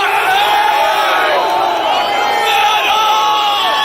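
A large crowd at a concert in an outdoor amphitheater roars and cheers continuously, loud and sustained with whoops and yells layered over a dense wall of voices.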